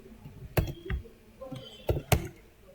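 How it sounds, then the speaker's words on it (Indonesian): A few sparse keystrokes on a computer keyboard, soft irregular taps and clicks spaced out in a quiet room. "tapi ngetik"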